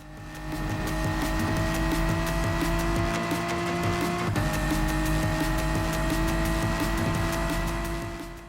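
A race car in Gran Turismo Sport runs in another car's slipstream on the approach to turn 1, its engine a loud, steady, sustained drone that holds its pitch throughout without a break.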